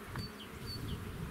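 Honey bees buzz around stacked hives at a spring apiary in Germany, a steady soft insect drone with a few bees passing close by.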